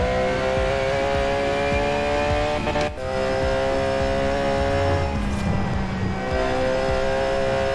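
A car engine in Forza Horizon 4 revs hard with too much throttle, a loud, close, sustained roar with steady harmonics and a brief dip midway. No one speaks over it.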